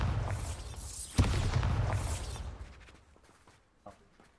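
A Bombarda blasting spell in Hogwarts Legacy goes off as a sharp booming explosion with whooshing debris, followed by a fading rumble and a smaller pop near the end.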